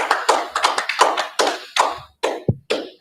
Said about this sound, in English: I'd like to give a big round of applause to our candidates.